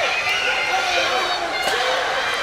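A roaring crowd cheers at a district high school swim meet, a dense, loud, sustained wash of voices and shouting, with an announcer calling the race over it.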